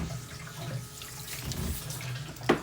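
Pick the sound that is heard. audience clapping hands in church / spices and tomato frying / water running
water running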